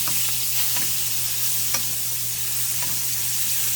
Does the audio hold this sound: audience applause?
no